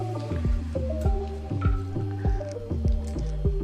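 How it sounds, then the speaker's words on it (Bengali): Masala mixed with a little water into paneer and capsicum: repeated wet, squelchy strokes in a steady rhythm, close and fairly loud. "দিয়ে মশলাটা খুব ভালোভাবে মাখিয়ে নিলাম"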